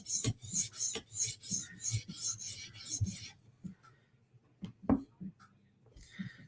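A surface is scratched in a finishing pattern with a series of rhythmic rasping strokes, close and fairly loud, followed by a quieter stretch with sparse scrapes and taps.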